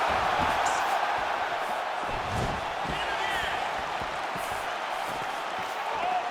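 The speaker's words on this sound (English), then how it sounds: "you hear the crowd react every time they come together" Arena crowd in EA Sports UFC 4 roaring and murmuring steadily throughout a fight, a dense continuous wash of cheering with brief swells, no clear talk on top.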